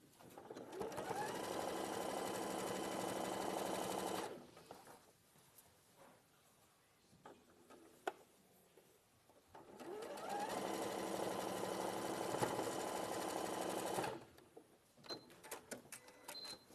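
A sewing machine stitches quilt pieces together in two long, steady runs of several seconds each, separated by a quieter pause with small handling noises.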